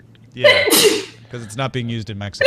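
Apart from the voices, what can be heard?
sneeze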